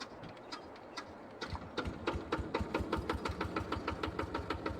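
Old micro tractor engine cranking over and catching, then settling into a steady, knocking idle of rapid rhythmic chugs, close and clear with no talk over it.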